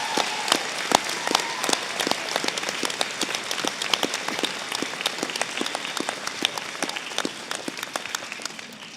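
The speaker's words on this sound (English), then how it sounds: "I would like you to round of applause your friends and family." Audience applause at a graduation ceremony: dense, steady clapping from a large crowd of friends and family, continuous and fairly loud throughout with crisp individual claps standing out, no voices over it.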